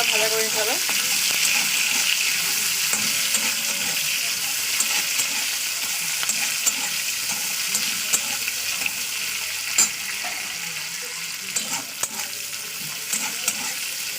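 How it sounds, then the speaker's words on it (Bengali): Chopped onion sizzles and crackles steadily in hot oil in a pan while a fish-and-eggplant curry is being cooked. The frying is close and continuous throughout, with occasional sharper pops and stirring clicks and no voices. "এরপরে পেঁয়াজটা দিয়ে দেবো"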